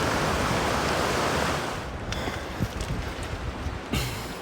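River water rushes in a continuous broadband roar at a gold prospecting spot in California, loud and steady at first, then slightly softer with scattered splashes and footstep-like knocks.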